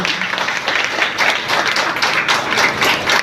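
An audience at a business gathering gives a loud round of applause for the CEO, many hands clapping in a dense, sustained roar that rises and falls slightly.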